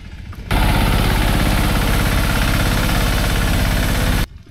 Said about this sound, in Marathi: आता एक ट्रॅक्टर दुसऱ्या ट्रॅक्टरने ओढून काढायचा आहे चिखलातून